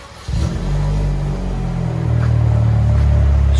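A 2012 Chevy Cruze LT Turbo with a straight-pipe exhaust starts up abruptly and revs, producing a loud, close, deep droning rumble that holds and builds slightly in pitch and intensity over a few seconds.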